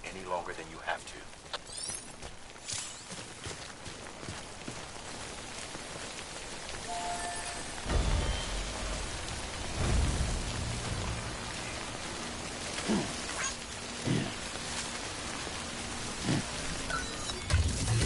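Timefall rain falls in Death Stranding as a steady broadband hiss throughout, with occasional heavier swells and faint voices or game sounds mixed in beneath.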